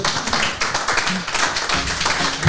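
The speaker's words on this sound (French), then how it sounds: "Je pense que ça mérite des applaudissements." Audience applause after a talk on secularism, a fairly close patter of claps with uneven rhythm, moderately loud and with no talk over it.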